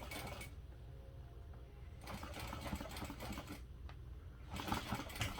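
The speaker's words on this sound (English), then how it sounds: "here I'm just sewing right back around to where I started" A sewing machine stitching a drop-in lining for a barrel bag, running in steady close bursts with short pauses between runs, alone and fairly loud.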